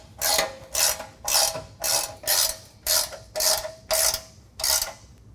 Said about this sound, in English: now we're going to tighten these mounts onto the side of the bumper